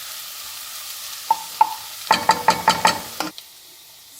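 Onions and canned finely diced tomatoes go into a pan and are stirred, giving a faint sizzle under a run of sharp utensil scrapes and clacks against the pan.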